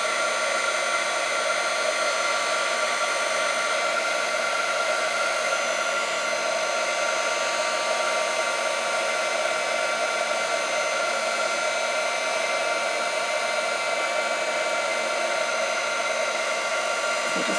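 A heat tool blows a constant, steady whirring hiss of hot air while shrinking Grafix shrink film, close and unbroken throughout.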